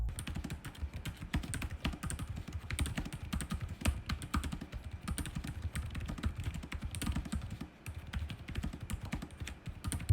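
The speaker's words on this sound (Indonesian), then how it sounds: "berikut ini adalah contoh suara feedback dari keyboardnya" Rapid, steady typing on the keyboard of a Dell Latitude 7300 laptop, dense clattering keystrokes heard up close and alone for about ten seconds, with only a brief dip in pace near the end.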